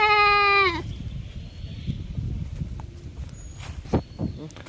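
A goat bleats once, loud and close, in a rural Assamese yard on a hot day. Soft rustling and footsteps on the ground follow it.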